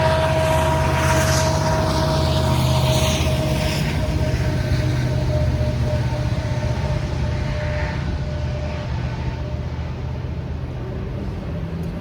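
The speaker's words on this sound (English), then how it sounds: "sorry about the train." A steady, heavy rumble with a sustained mechanical drone from a train passing in Jefferson City, Missouri, continuous and fairly loud, slowly easing toward the end.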